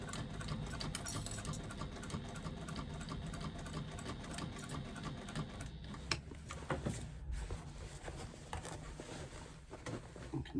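A good-quality domestic sewing machine stitches a fabric bag with a soft, steady mechanical whir. It runs continuously at low volume, with a slight change in texture partway through as the bag is turned.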